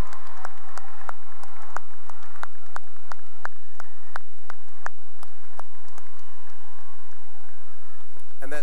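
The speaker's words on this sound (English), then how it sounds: "we can keep clapping because they certainly deserve it" An audience at a high school graduation ceremony claps in sharp, evenly spaced hand claps that carry on steadily for several seconds before thinning out.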